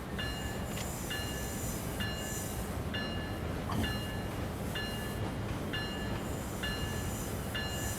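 An SD40-2 diesel locomotive in a train simulator game runs from San Bernardino toward Hesperia, giving a steady droning rumble with faint tonal hums that repeat throughout.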